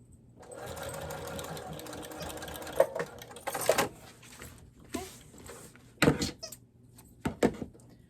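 A sewing machine stitches a zipper onto a makeup bag, running in a steady low whir, then gives way to several short clacks and bumps of handling at close range.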